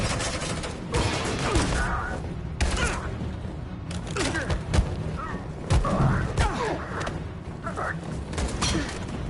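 Suppressing gunfire in a combat video game: dense bursts of shots and heavy thuds crackle through nearly continuous battle noise, loud and close, with explosive booms mixed in.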